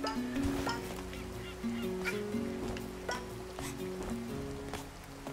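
Seagulls in A Hat in Time give repeated honking calls in an irregular rhythm, moderately near, over a soft, rain-like patter.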